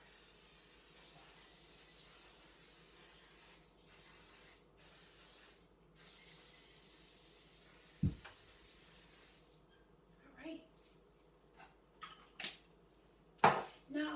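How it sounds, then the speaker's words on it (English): Vegetable oil spray can greasing a baking pan in a home kitchen, a soft steady hiss lasting several seconds in repeated bursts, followed by faint clicks and knocks. "So I'm just using a vegetable spray in a can."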